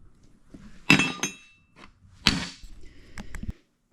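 Hammer blows on rivets during an Oliver 82 mower overhaul: a few sharp metallic clinks and taps, spaced irregularly and fairly close, with quieter handling noise in between.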